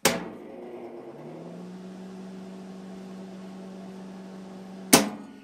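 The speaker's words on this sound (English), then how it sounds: "The fan actually even sounds good. There's a little fan in there." The small cooling fan of a Lincoln buzz box stick welder whirs steadily with a low hum, bracketed by a sharp click at the start and another near the end.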